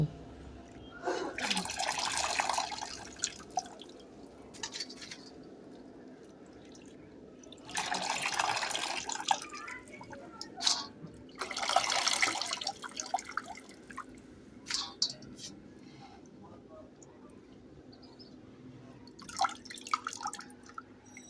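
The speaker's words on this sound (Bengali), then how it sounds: "বাঁধাকপিটা কাটা হয়ে গেছে, এবার ধুয়ে নেব।" Chopped cabbage is rinsed under a running tap at a home kitchen sink, with quiet splashing bursts of water starting and stopping several times and scattered drips between them.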